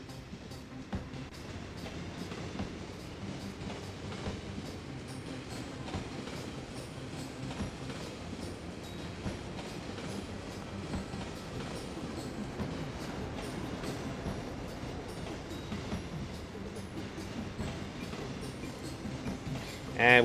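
A tram rolls past in the city-builder game Cities: Skylines, a steady rumbling rail drone with faint wheel clatter held evenly throughout, under a game music soundtrack, with a louder burst right at the end.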